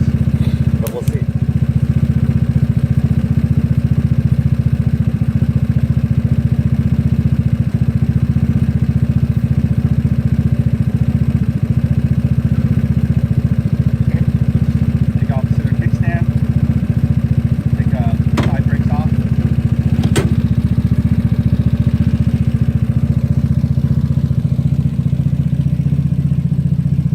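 A GY6 scooter engine runs at a steady, loud idle for the whole stretch, a constant low drone with faint clatter and a few sharp clicks.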